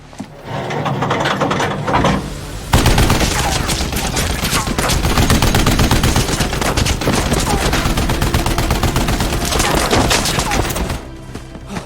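Soldiers in the film SISU fire a loud, dense fusillade of rapid gunshots that runs for several seconds under a tense soundtrack.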